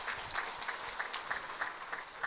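Audience clapping at a business success seminar, a steady, moderately faint wash of many hands with no voices over it.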